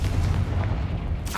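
A Confringo fire spell blast in Hogwarts Legacy, a deep booming burst that rumbles for about a second before a brief crackle at the tail.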